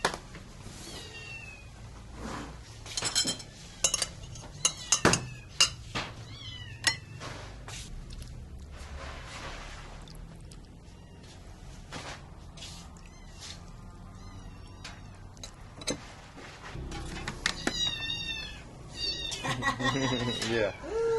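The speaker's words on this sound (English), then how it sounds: "Yeah, those cats are hungry." Hungry cats meow repeatedly in a rural East Java home, several cats calling in overlapping bursts close by while people talk and dishes clatter in the background.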